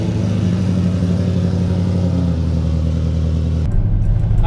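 A Nissan S14 with a swapped LS3 V8 engine on a test drive gives a loud, deep, steady engine drone at cruise that shifts to a lower, rougher rumble near the end.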